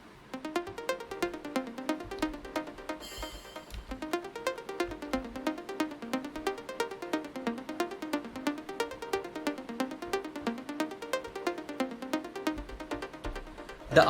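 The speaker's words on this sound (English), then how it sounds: "And I also converted the arps into triplets." Psytrance synth arpeggios reworked into triplet rhythm, a bright rapid pattern of plucked notes rising and falling over a steady pulsing kick, loud and continuous with no voices.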